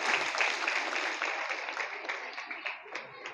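Crowd applause honouring donors at the Parna festival in Rawatbhata, a steady broad wash of many hands clapping that continues at moderate level throughout.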